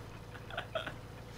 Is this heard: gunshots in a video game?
no